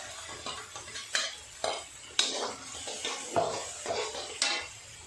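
Ground paste being added to a pan of mixed vegetables and stirred: a spoon scrapes and clinks against the metal pan in repeated strokes, with a soft, faint sizzle underneath.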